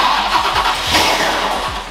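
A Ford F100 truck engine cranks with repeated starter pulses, then catches and roars loudly up close.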